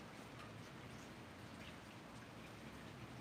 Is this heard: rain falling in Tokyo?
yes